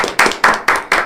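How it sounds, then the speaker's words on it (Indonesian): Podcast hosts clap their hands together in five sharp, evenly spaced claps, close and loud, with no talk. "tepuk tangan buat kita semuanya."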